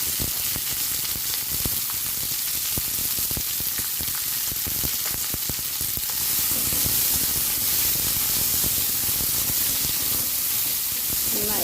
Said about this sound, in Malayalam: കറിവേപ്പില ഒന്ന് വഴന്ന് വന്നിടുമ്പോൾ നമ്മളിതിലേക്ക് കാബേജ് ഇട്ട് കൊടുക്കണം